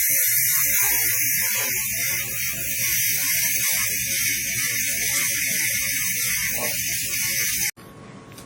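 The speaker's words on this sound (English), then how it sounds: "as soon as we see that liquid nitrogen is coming out, we just close the valve and we fill it" Liquid nitrogen hisses out steadily and loudly while a DSC Q2000 tank is being filled, a continuous close spray that cuts off abruptly near the end.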